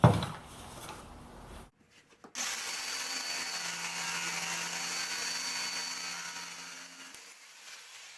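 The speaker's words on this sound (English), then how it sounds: "I'm ready to use the saber saw to do the outside" A saber saw cuts the outside circumference of a glued wooden wheel for a wheelbarrow planter; a short burst, a pause, then a steady close buzzing cut holding for about five seconds before tapering off.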